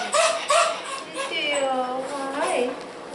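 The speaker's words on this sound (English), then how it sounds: "These are her puppies." Shiba Inu puppies let out two sharp yips early on, then a long, wavering, high-pitched whimper that rises and falls, close by and fairly loud.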